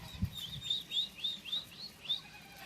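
A young turkey peeps in a short series of high, rising chirps, about seven in quick rhythm, close and fairly faint.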